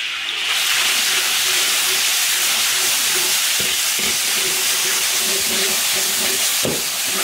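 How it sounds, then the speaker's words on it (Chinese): Loud, continuous hissing sizzle of chopped yellow chili and ginger stir-frying in oil in an iron wok, with a few scraping clanks of the spatula near the end. "把这剁椒的酸辣味儿炒出来"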